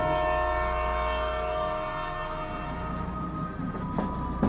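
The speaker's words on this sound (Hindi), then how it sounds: "ट्रेन चल पड़ी।" A train begins to move as an audio drama effect, a low steady rumble with a sustained horn-like tone fading as rolling clatter builds, moderately loud and close.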